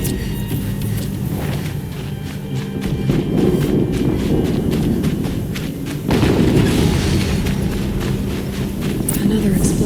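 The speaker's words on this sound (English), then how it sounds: "Another explosion." Explosions in the game Horizon Zero Dawn roll through as dense, loud low rumbling with repeated heavy booms and a sharp fresh blast partway through, under a continuous battle din.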